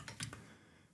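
Typing on a computer keyboard fitted with home and end keys: three quick, close clicks in the first third of a second, then quiet.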